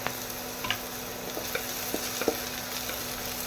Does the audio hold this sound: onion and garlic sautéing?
yes